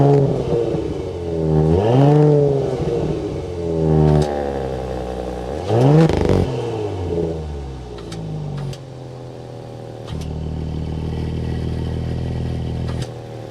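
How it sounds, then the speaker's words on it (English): A 2022 Audi S5 Cabriolet with quad exhaust outlets cranks and fires, then blips its engine in several rising and falling revs before settling into a steady, burbling idle, close and loud. "start it up so we can hear that exhaust note"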